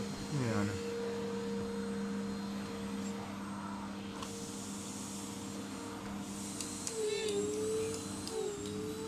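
An electric vacuum cleaner runs steadily while the house is cleaned, a continuous motor hum throughout with a shift in pitch near the end, and a voice speaking briefly.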